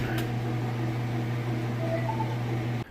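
A Crosley Whirlpool top-load washing machine spins its drum, a steady, even mechanical hum and whir held throughout before cutting off abruptly near the end.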